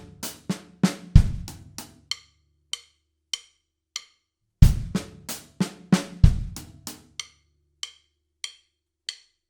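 A drum kit plays a sparse pattern of sharp hits, deep kick thumps mixed with crisp hi-hat taps, in two repeating bursts with no voices.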